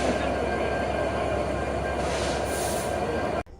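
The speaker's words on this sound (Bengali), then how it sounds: "এটি একটি ডিজেল ইলেকট্রিক লোকোমোটিভ।" A 6630-series diesel electric locomotive hauls the Rupsha Express intercity train, a loud steady rumble of engine and rolling wagons close by, with a brief brighter swell of wheel noise before it cuts off abruptly at the end.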